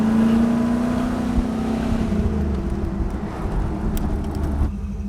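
A Jeep CJ with a custom exhaust drives along, its engine droning with a steady low rumble that shifts pitch slightly under heavy wind buffeting, with no speech.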